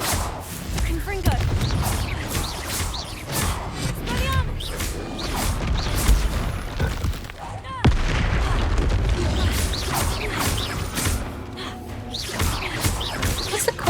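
A Confringo explosive spell fired in Hogwarts Legacy, heard as repeated loud booming blasts and crashing impacts in dense game combat, mixed with a player's voice talking over the action.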